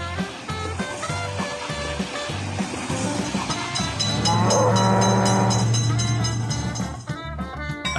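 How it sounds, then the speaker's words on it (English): A train in an Android railroad crossing simulator game rumbles past loudly with rhythmic clatter, its horn sounding a sustained blast midway before the noise eases. "Attention, train is coming."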